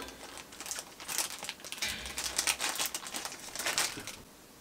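Plastic packaging of a Takara Tomy Sanrio blind bag being cut open and handled, soft irregular crinkling and rustling close by, growing louder in bursts then fading, with no talking.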